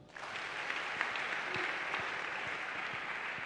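A church congregation applauds at a worship service, a steady, fairly faint wash of clapping that holds throughout without voices.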